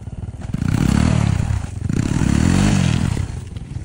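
A nearby motorcycle engine revs up twice, its pitch rising and falling in a loud, throaty drone.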